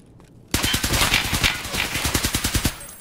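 A scav fires an automatic weapon in Escape From Tarkov, a loud sustained burst of rapid shots starting suddenly after a quiet moment and continuing in a steady rhythm for about two seconds.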